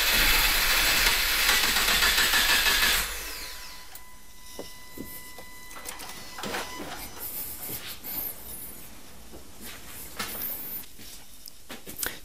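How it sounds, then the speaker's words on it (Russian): A Subaru Impreza starter motor cranks steadily for about three seconds with a whirring hiss, the engine not starting, then cuts off, leaving quiet mechanical ticks and faint clicks. "Дополнительно покручу немного стартером, чтобы отработать все-таки остаток топлива."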